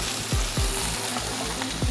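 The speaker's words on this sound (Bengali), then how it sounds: "মানে আমাদের ম্যারিনেটেড বিফটা এখন আমরা এখানে দিয়ে দিচ্ছি। একটু ভেজে নিব।" Marinated beef frying in a pan for a beef capsicum bhuna, a loud, dense sizzle with a few low thumps as pieces shift, continuous and close with no talk.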